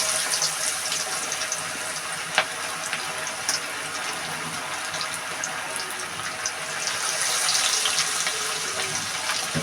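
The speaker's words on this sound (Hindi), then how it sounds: "तो व्यूअर्स ऑयल हमारा अच्छे से गर्म हो चुका है। अब हम फिश फ्राई करेंगे।" Fish fries in well-heated oil, a continuous close hiss and sizzle with small crackling pops, and no talking.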